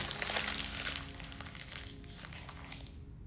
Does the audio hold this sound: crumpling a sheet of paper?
yes